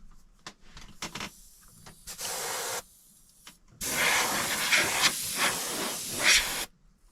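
An airbrush sprays paint onto a Revell/Monogram 1955 Ford model car kit in short hissing bursts, then a longer sustained close hiss that cuts off abruptly.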